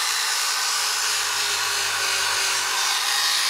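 A light power tool with a wire brush whines steadily while scouring old residue off a Kawasaki wheel, a close, continuous high buzz with no pauses and no talking.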